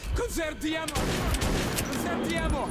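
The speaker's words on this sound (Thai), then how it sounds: "มันยิงซ้ายยิงขวา" Gunfire from the Metro 2033 video game rattles on, bursts of shots mixed with game noise while a voice speaks over the top.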